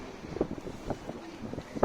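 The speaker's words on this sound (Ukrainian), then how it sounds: "Тут холодно, вітер дує." Cold winter wind gusts through the streets of Riga and buffets the microphone outdoors, a soft, uneven rushing with brief louder puffs at close range.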